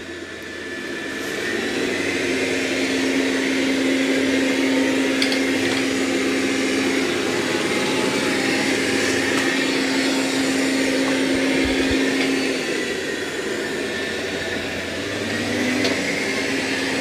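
A Dreame X40 Ultra robot vacuum with 12,000 Pa suction runs in a home, a loud steady motor whine and airflow roar held close and unbroken across the whole stretch, with no talking.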